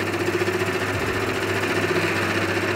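A milling machine taking a 30 thou depth of cut in metal for a custom bike fixture, a loud continuous grinding drone with a steady rhythmic pulsing throughout.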